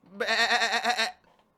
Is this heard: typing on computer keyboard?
no